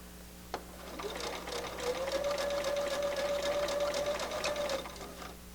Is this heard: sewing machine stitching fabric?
yes